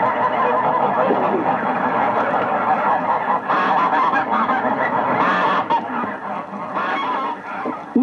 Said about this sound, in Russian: Они собираются перед отлетом в большие стаи, и если вам вдруг доведется ночевать поблизости от места их сбора, то под такой гвалт вы вряд ли уснете.